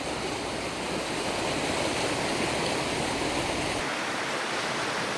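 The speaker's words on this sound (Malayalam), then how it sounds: "നല്ല ഒഴുക്കുള്ള നല്ലൊരു തോടാണ്." A fast-flowing stream runs beside farmland, giving a loud, steady and continuous rushing of water that is close by and constant throughout.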